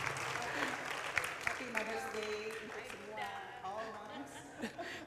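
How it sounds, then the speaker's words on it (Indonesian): Applause from a church congregation in an auditorium hall, clapping under and alongside a voice speaking over it, moderately faint. "Beri tepuk tangan untuk Bunda Grace."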